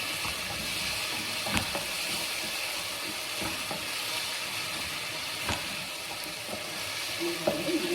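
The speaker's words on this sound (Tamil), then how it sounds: "இந்த தக்காளியினுடைய ஜூஸ் வந்து கொஞ்சம் வதக்கிடணுங்க" Tomatoes sautéing in a pan and being stirred with a wooden spoon give a steady close sizzle, with soft scrapes and knocks scattered through it.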